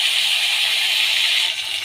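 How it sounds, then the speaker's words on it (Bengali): The remaining salt-and-turmeric pomfret fish sizzling in hot oil in a pan, a steady close hiss that dips slightly toward the end, with no one speaking. "বাকি মাছগুলো ভেজে নিচ্ছি"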